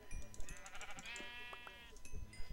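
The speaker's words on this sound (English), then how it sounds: "We're going to kill more of these sheep for more of their mutton." Sheep in the Minecraft video game bleat in a few wavering, pitched calls over quiet background game sound.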